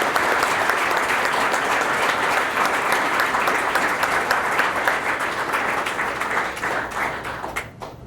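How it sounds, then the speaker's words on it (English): Sustained audience applause fills a police chief's awards ceremony honoring citizens, a dense steady wash of many hands clapping close and loud for about eight seconds, tapering slightly at the end. "Let's give them a round of applause."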